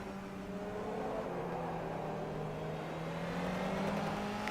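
A simulated Evo touring car racing in rFactor 2 in a fantasy NGTC round: a steady, loud engine drone holds throughout with a faint pitch rise toward the end, and no voices are heard.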